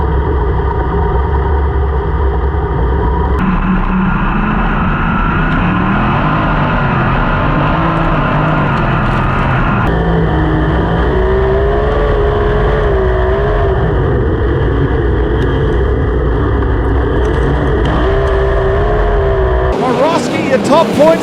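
Sprint cars racing in a round of heats, their engines droning loudly and steadily with shifting pitch as the pack circles, under continuous commentary.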